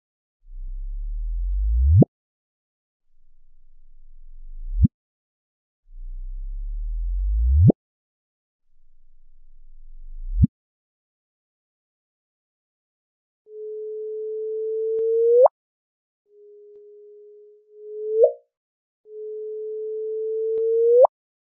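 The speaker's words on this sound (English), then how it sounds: "you can convert that wave signal into sound and hear the difference." Gravitational wave signals from black hole mergers converted into sound: a series of short tones sweeping upward in pitch, the first low rising chirps ending in sharp peaks, then three steadier higher tones each ending with a quick upward flick.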